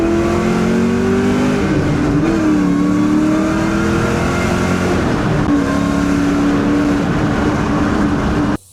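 Loud, close revving of a Ford Mustang Mach 1 with a 5-liter stroker V8, ported heads, cams and long-tube headers: a steady throaty drone that swells and climbs in pitch several times, with no talk.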